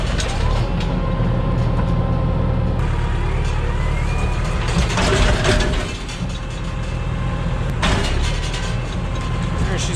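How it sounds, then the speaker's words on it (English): A tractor pulling a small square baler lurches forward, its diesel rumble and clanking, ratcheting baler mechanism loud and close, with sharp mechanical knocks and surges through the clip. "I'm gonna kind of jerk the tractor forward just to nudge that loose there."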